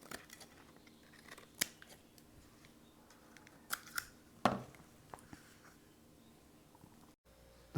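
Scissors snip loose leaves and a small brown piece off the base of a store-bought pineapple in a few sharp, quiet, scattered cuts with soft handling noises between them.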